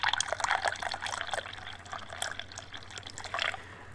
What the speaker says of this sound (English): let me pour me a cup of this delicious goodness.